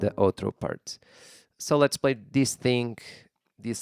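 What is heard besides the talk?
No everyday noise stands out behind the speech.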